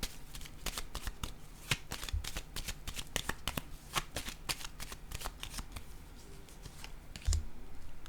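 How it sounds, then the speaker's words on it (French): Cards are laid down and handled during a card reading, producing a rapid series of crisp, close slaps and flicks in an irregular rhythm, with occasional louder snaps and a soft thud near the end. "Je vais déposer une carte sur l'homme."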